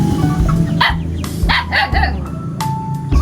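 A puppy named Max barks in quick bursts of sharp, high yips and barks, close and loud, with short pauses between them.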